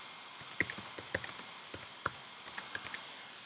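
Keys on a computer keyboard are typed in short irregular bursts of crisp clicks, close and fairly quiet, with no voices.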